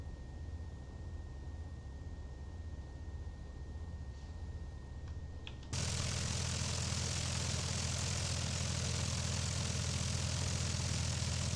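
Cessna 172 propeller engine in a flight simulator game, a low idle drone that jumps abruptly to a loud, steady full-band roar as the aircraft taxis out of the hangar.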